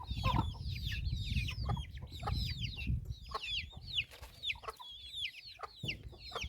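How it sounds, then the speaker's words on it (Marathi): Several chickens cluck and squawk close by in quick, overlapping bursts, with a busy low rumble of movement beneath. "बाहेर आलं ना मी तर लगेच कोंबडे हाजीर"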